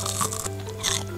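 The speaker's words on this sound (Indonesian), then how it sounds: "Ini tuh bagian luarnya renyah banget, kriuk banget." A crispy fried potato cheese stick is bitten twice, each giving a close, sharp crunch with crackly crinkling, the bites about half a second apart.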